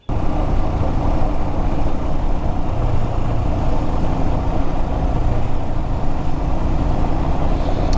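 An adventure motorcycle starts riding off on a dirt trail, its engine a loud, steady rumble close by that runs the whole time without a break.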